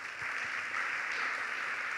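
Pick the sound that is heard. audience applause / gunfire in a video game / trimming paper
audience applause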